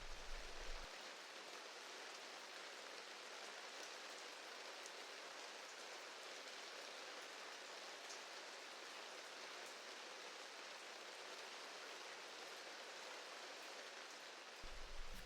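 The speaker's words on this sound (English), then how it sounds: "You just drift and the rain holds you for the rest of the night." Rain falls steadily and evenly, a soft continuous hiss of drops on surfaces with no pauses, faint and close, with a slightly fuller patter at the very start and end.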